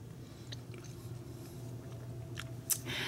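Quiet, close chewing of homemade chicken pot pie with carrots and onions, soft squishy bites and a few sharper crunches over a low background hum.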